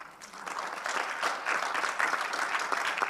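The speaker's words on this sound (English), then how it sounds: "Let's clap for the panel again." Conference audience applauding a panel on scaling oxygen systems in Africa, steady sustained clapping from a mid-sized crowd with no voices on top.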